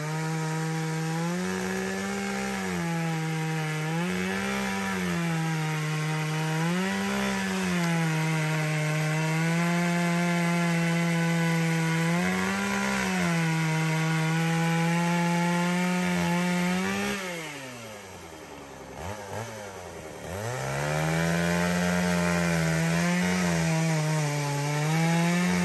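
A tamarind tree stump is cut into a stool with a chainsaw in a rural garden, the engine loud and close, cycling steadily through repeated revs under load over the whole stretch, dipping briefly near the end before biting in again.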